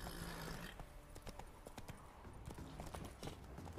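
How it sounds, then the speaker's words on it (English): Steady clip-clop of horse hooves trotting in The Witcher 3: Wild Hunt, close and rhythmic, with a few sharp clatters over a light background hum. "it's just a horse"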